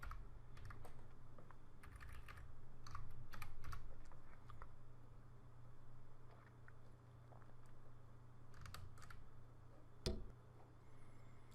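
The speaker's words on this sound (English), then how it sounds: "So I press tab and type ramp." Soft, close clicks of typing on a computer keyboard in a quiet room, irregular bursts of keystrokes with pauses and one sharper tap near the end.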